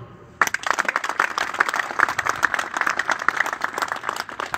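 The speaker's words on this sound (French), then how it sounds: "On l'applaudit." Audience applause at a political gathering on Kabyle independence, a dense burst of many hands clapping that starts abruptly after a quiet moment and carries on steadily and loudly to the end.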